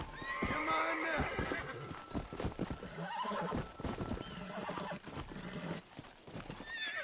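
A horse in the video game Red Dead Redemption whinnies and snorts close up, hooves clopping in between, while a person talks over the animal's sounds.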